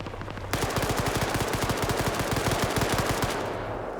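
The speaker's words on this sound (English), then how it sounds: "now they're shooting out the wheels of the Vic to make sure it's down" Automatic gunfire in a PvP military video game, aimed at a vehicle's wheels, a long sustained burst of rapid rattling shots, loud and dense, starting abruptly and tailing off after about three seconds.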